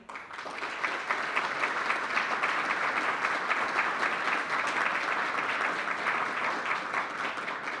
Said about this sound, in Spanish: para quien voy a pedir yo un aplauso.